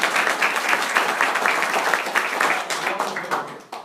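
Small room of people at an insurance training session applauding a newly hired nurse, a dense patter of many hands clapping steadily for several seconds, fairly close, with some voices mixed in.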